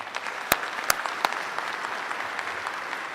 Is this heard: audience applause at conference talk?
yes